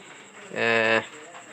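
A single low, warbling pigeon coo of about half a second, moderately loud, rising out of quiet background hiss and fading abruptly.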